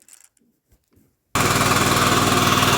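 After a second of near silence, a walk-behind tractor engine fitted with a generator fires up abruptly and runs loud and close with a fast, steady, hammering chug.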